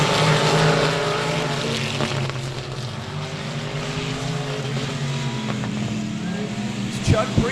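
Race cars circling the 67 Speedway of Texarkana, a continuous loud roar of engines that swells and fades as the cars pass, heard under an announcer's running commentary.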